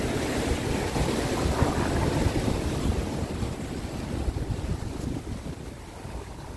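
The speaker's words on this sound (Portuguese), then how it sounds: "Veio uma onda forte, pegou aqui na minha calça." Strong sea waves crash against a concrete seafront promenade, producing a continuous loud surging wash with gusty wind buffeting the microphone, fading slightly toward the end, with no voices.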